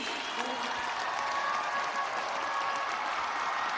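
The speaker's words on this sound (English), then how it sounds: "Merci aux danseurs de Tahiti, ils méritent tous vos applaudissements" Steady crowd applause at the Pacific Games closing ceremony for Tahitian haka dancers, a dense, even wash of clapping from a large audience throughout.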